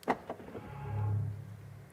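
A short electronic chime or motor whir rises and settles after a couple of soft clicks, a brief locking sound from a 2023 Mercedes EQE SUV heard close by.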